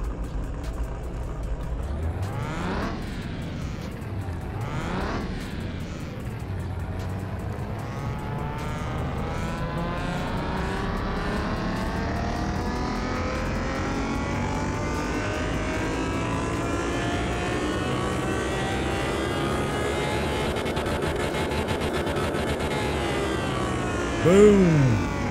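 A DeLorean in Car Mechanic Simulator 2021 revs hard on a dyno with boost, a sustained loud engine roar climbing steadily in pitch for about twenty seconds after two short early blips, ending in a brief burst.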